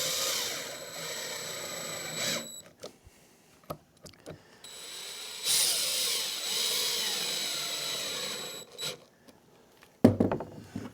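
A power drill drives screws into the base of a wooden table saw miter sled, two sustained whirring runs with rising and falling pitch, separated and followed by brief knocks and handling clatter.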